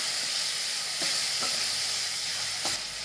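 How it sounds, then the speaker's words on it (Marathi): Tomatoes sautéing with softened onions for soybean bhurji, a steady close hiss of frying with a few brief stirring scrapes, no voices present. "टॉमॅटो टाकून घेते तो पण चांगला परतून घेते कांद्याला"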